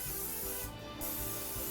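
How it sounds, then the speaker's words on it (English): Cooking spray hisses from a can into a pie pan in two short bursts separated by a brief pause, close and fairly quiet. "I'm going to spray it."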